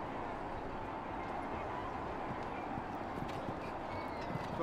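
A showjumping horse's hooves thud steadily on the arena surface during an international stairway class at the Royal Berkshire Show, soft and distant beneath a constant wash of outdoor crowd and ambient noise.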